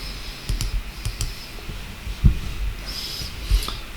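Computer keyboard typing a terminal command, a few scattered soft key clicks up close against a quiet hum.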